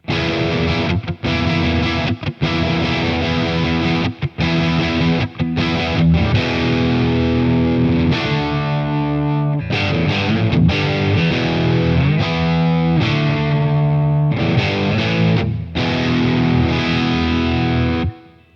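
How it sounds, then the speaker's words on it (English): Heavily distorted electric guitar through an MXR Power 50 distortion pedal plays chugging chords and riffs with brief stops, loud and up close, no voices. "It's a rich, gritty distortion."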